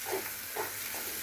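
Chicken mince frying in a pan with a soft, low sizzle, broken by two brief stirring scrapes near the start and middle; short and fairly quiet, with no voices.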